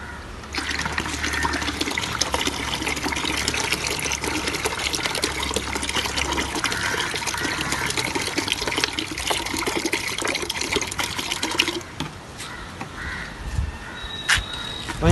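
Water sloshes and churns steadily as about three litres are mixed in a container for a homemade chilli plant spray against leaf curl, staying loud and continuous for roughly twelve seconds before easing to a quieter trickle near the end.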